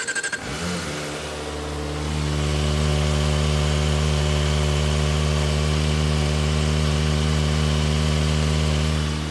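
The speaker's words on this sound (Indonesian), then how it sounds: "untuk idle ZX25 menurut gua dia lebih apa ya? Kayak suaranya lebih tipis, lebih ngelengking gitu." A Kawasaki ZX25 motorcycle engine starts and settles into a steady, close idle with a thin, high-pitched buzzing drone that holds unchanged for several seconds.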